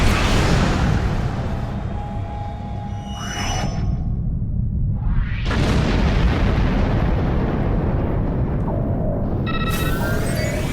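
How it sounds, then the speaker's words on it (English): Starship aft weapons fire in a Star Trek Online space battle against a Romulan ship, booming explosive blasts and whooshing bursts over a constant loud rumble, with sharp new volleys around the middle and near the end. "Aft weapons, fire!"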